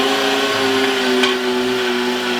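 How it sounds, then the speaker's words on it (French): An electric meat grinder fitted with a coarse-hole plate minces meat with a steady, even motor whine that holds constant throughout and cuts off abruptly at the end, with no talking. "Et maintenant on va hacher la viande"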